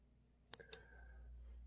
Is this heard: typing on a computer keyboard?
yes